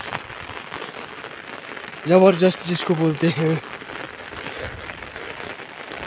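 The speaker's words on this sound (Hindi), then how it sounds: "इतनी तेज़ बारिश लग रही है ना" Heavy rain pours steadily onto a road in a continuous broadband hiss, with someone talking loudly over it for about a second and a half midway.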